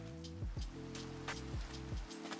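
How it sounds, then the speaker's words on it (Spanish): Rain falling in a Minecraft UHC game, a steady soft hiss that runs beneath looping game music with rising and falling tones. "Está lloviendo"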